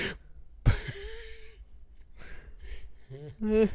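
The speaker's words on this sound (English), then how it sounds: "Dumb cough." A single sharp cough bursts out close by, followed by breathy sounds and a voice speaking afterward.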